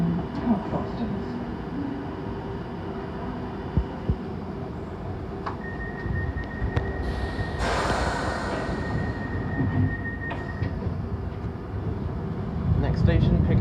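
A London Underground Piccadilly Line train bound for Cockfosters, heard from inside as a loud continuous rumble of wheels and motors with a brief whining tone midway and rising roar toward the end.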